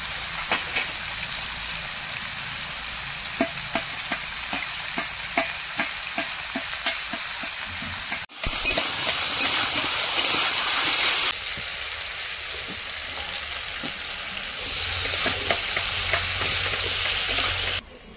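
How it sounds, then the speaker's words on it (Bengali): Vegetables for a Bengali shukto fry steadily in a pan, a continuous close sizzle broken by scraping and clinking as they are stirred, with the hiss surging louder partway through. "সবজিটা আমি ভালো করে ভেজে নিয়েছি।"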